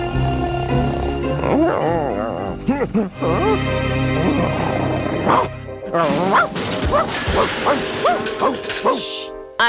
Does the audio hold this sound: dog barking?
yes